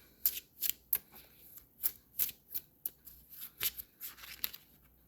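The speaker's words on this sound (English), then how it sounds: "too many cards. I need to reshuffle" A deck of cards shuffled by hand, a series of crisp riffling bursts and soft slaps in an irregular rhythm, close and fairly quiet with no talk.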